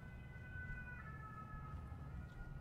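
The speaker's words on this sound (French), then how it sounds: "Une ambulance qui passe dans la rue." An ambulance siren wails steadily out in a street, faint and distant beneath a heavy low rumble of background noise, with no talk over it.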